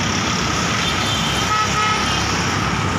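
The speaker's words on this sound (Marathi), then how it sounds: "अजूनही इकडच्या गाड्या या अजूनही स्पीडमध्येच येत आहेत" Road traffic roars past at speed at the Limb Phata junction in Talegaon Dabhade, a dense continuous rush of vehicles close by with a horn toot rising above the steady noise.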